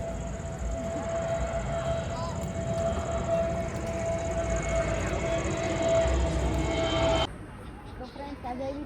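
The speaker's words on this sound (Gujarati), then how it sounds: "ઉપરથી ટ્રેન જાય" A long, steady metallic whine and rumble of a train passing overhead near a temple in Goa holds for about seven seconds, then cuts off to quieter background noise.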